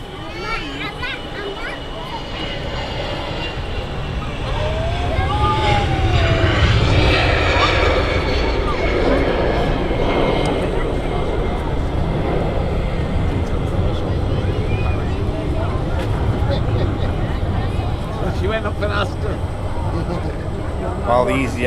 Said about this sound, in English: EasyJet A320 on the roll.